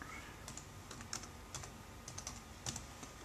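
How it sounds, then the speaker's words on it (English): Quick bursts of computer keyboard typing while a poll question is entered in Adobe Connect Pro, close and fairly quiet, with clustered keystrokes and short pauses and no talking. "Okay, I'll just type that in."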